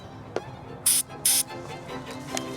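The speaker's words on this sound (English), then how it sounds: "I'm going to take my sealer and I'm going to spray it around my tape" Two short hissing bursts of sealer from a spray can onto grafting tape on a whip-and-tongue tree graft, close and fairly loud, with quiet handling noises around them.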